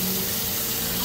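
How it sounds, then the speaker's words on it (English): Water from rinsing rice pours and splashes steadily into a kitchen sink as it drains, a continuous close rushing flow with no talk. "And then we're gonna drain the water,"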